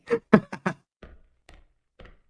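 In the Backrooms video game, a flashlight battery is swapped, making four sharp close clicks and knocks in quick succession, then three softer, spaced taps against silence.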